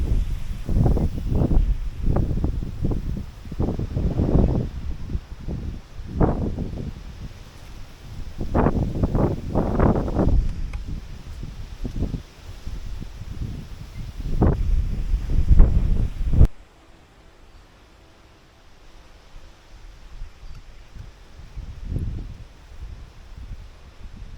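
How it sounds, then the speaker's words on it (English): Strong wind buffets the microphone in heavy, rumbling gusts for most of the stretch, then drops suddenly to a quiet, faint background. "It's so windy for the umbrella"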